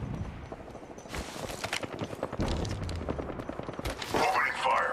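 Gunfire in a ranked Apex Legends match: dense rapid bursts of shots crackling through several seconds, mixed with game sounds and voices talking over the fighting.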